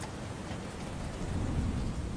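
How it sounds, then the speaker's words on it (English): Dense, steady rain patters and hisses against a window, continuous and fairly loud, with no voices. "All that was left was the sound of the raindrops clicking against the window."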